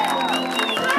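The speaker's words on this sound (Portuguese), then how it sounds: "Pode bater palmas que a nossa homenageada merece!" Party guests clap and cheer for the birthday girl at a family party in Vila Carrão, a dense wash of applause blended with music and voices.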